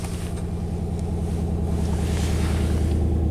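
A classic Chevy engine idles steadily in the emissions-system work setting, a constant low rumble that holds even and close throughout with no talk.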